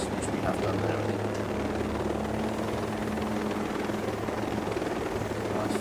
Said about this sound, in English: I'm going to try and outrun this, these other helicopters